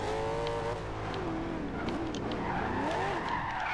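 Corvette ZR1 tires squeal in a drift in the racing game Forza Horizon 2, a loud, continuous skid with wavering pitch running under steady engine drone for the full stretch.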